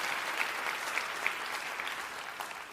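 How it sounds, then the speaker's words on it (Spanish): Church congregation applauding together, a dense steady wash of clapping that carries on without a break and fades a little toward the end, fairly distant and moderately loud. "Vamos, iglesia, si vas a aplaudir, hazlo con ganas el día de hoy"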